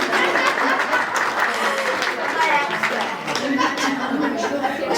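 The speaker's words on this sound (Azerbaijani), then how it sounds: "Mən istəyirəm bir alqış gəlsin Elmira xanıma." Audience applause at a national fashion festival in Shusha, steady and sustained clapping from a crowd with some chuckles, while a speaker's voice carries over it.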